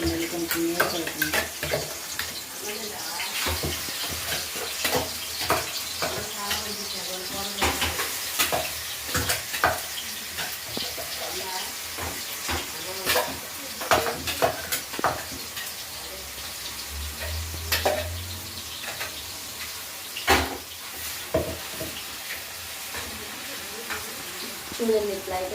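Ginger and onion paste frying in hot oil in a pan for dum biryani, a steady close sizzle with scraping stir strokes and sharp spatters throughout, no one speaking.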